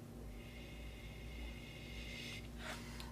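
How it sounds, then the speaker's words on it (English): Someone sniffs a glass of California Chardonnay white wine, one brief close nasal inhale near the end over a faint steady room hum. "Let's give it a little bit of sniff."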